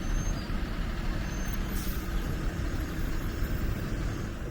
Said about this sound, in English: A lot of traffic in this area.